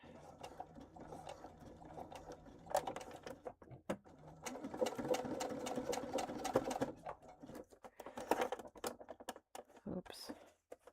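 A sewing machine stitches in quick rhythmic bursts of rapid needle clatter, close and fairly loud, with short pauses between runs and a few soft handling noises.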